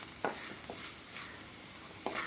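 Pirandai (adamant creeper) is sautéed in hot oil in a pan, giving a faint, steady sizzle broken by a few soft scraping stirs, close and quiet, with no talking.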